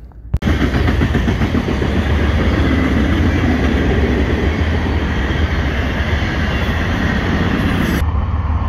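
A train roars past at speed close by on tracks in California's Central Valley, a loud continuous rumble with rhythmic clatter of wheels, cutting off abruptly near the end.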